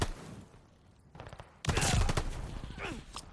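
Gunshots from an MP40 submachine gun in Call of Duty Warzone Pacific, a sudden loud volley near the end after a quieter stretch, with game noise around it.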